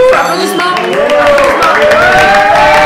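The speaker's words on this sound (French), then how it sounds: "Applaudissements." A nearby group cheers and claps. Loud, sustained voices rise in pitch over scattered applause and crowd noise.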